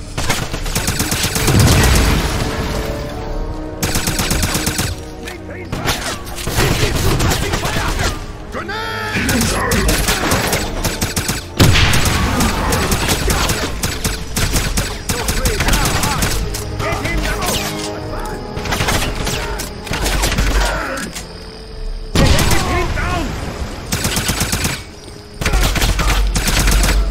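Gunfire in the shooter Wolfenstein: loud, sustained bursts of automatic fire and heavy impacts crash almost continuously, with brief lulls and voices shouting in between.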